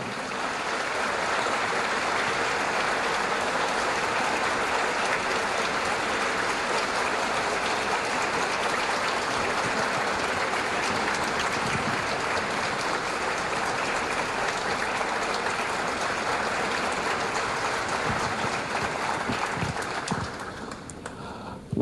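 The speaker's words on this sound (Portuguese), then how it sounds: "com uma calorosa salva de palmas, vamos receber os pianistas Mário Tiroli e Eduardo" An audience gives long, sustained applause welcoming two pianists onstage for a piano duel, dense and even for about twenty seconds before thinning at the end, with no speech.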